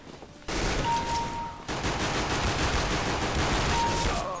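Sustained bursts of CS:GO gunfire rattle continuously, loud and dense, with a brief quieter gap near the start.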